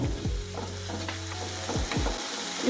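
Mudakathan greens being sautéed in a pan for dosa batter, with a soft continuous frying sizzle and a few scraping stirs of a spatula against the pan, close and steady with no talk.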